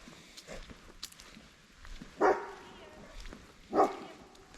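A dog barks twice in the distance, two short separated woofs over a quiet room background with faint speech.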